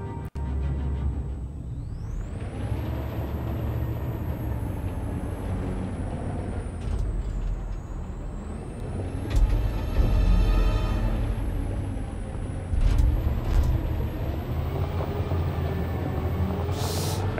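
A truck in the video game Detroit: Become Human releases its air brakes with a long, loud hiss over a rumbling engine, with a couple of sharper bursts later on.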